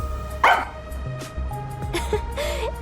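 Sugar, a dog in the video game Rain Code, barks a few times in short sharp yips at mid distance, with gaps between the barks and game background tones running underneath.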